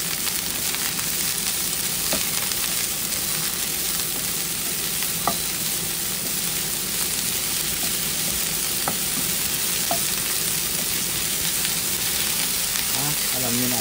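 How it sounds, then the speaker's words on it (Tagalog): Broccoli sizzling and frying in a pan while being stirred, a steady loud crackle with occasional scraping clinks of the utensil, a voice briefly heard over it. "Ganyan lang guys pagluto natin ng ating broccoli"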